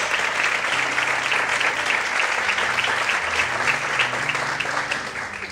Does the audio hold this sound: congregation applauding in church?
yes